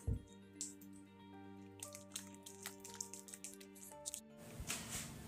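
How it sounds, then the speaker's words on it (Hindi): Cake batter made with milk and butter is stirred in a bowl, giving soft wet squishing and dripping sounds, faint and close, with a low tonal hum underneath throughout. "ये देखिए मैंने अच्छी तरह से बैटर को मिक्स कर लिए।"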